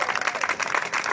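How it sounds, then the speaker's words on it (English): Rally crowd claps for legislators in a brief, dense burst of applause, moderately loud and continuous. "Let's give our legislators a round of applause."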